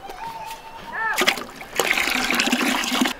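Cold water is poured into a 5-gallon bucket at a camping setup, starting with a short gurgle and then a sustained loud splashing, sloshing stream up close.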